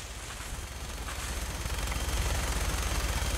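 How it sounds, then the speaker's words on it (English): Bursts of rapid video game gunfire rattle in the distance, growing louder and denser over a low rumbling background. "Distant sounds of gunfire had drawn her attention"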